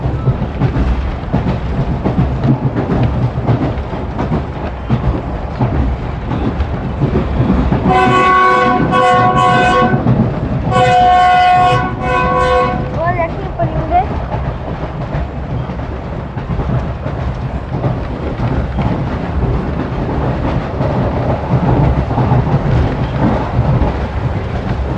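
A Safari passenger train runs between Rawalpindi and Attock with a constant rolling rumble. Two long horn blasts sound from midway, and the steady clatter of the wheels carries on under and after them.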